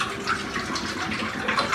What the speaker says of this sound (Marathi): एका पातेल्यामध्ये पाणी ओतायचं.